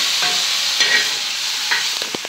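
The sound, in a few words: fenugreek leaves frying in oil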